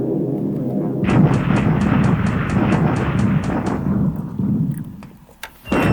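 Bombs from an airstrike on an enemy airbase in War in the Pacific, a loud rumbling barrage of repeated explosions rolling for several seconds before fading, with a brief burst near the end.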